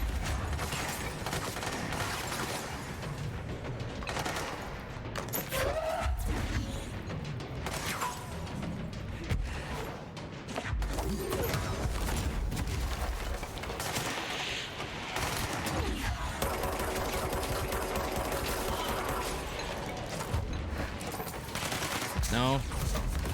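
Enemy gunfire in the game Control, with bursts of shots and mechanical clatter running nearly continuously, loud and dense under a layer of game noise and a speaking voice.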